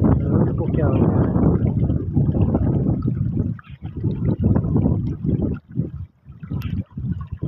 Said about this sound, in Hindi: ये आप देख रहे हैं पानी की स्पीड